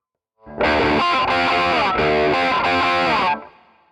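A distorted electric guitar plays a solo pattern from a song at full speed, a run of quick, loud, sustained phrases with small breaks, then a short decay.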